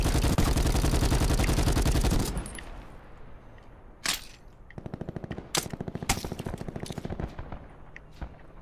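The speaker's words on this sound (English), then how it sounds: "He's shooting across the street." Gunfire in Black Ops 4 from a shooter on the roof of a second house firing across the street: a loud, dense automatic burst first, then scattered single shots and short rattling bursts at a distance.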